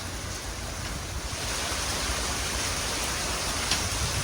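Strong wind from Hurricane Milton in Florida roaring steadily into the microphone, a broad continuous rush that swells slightly as a gust builds.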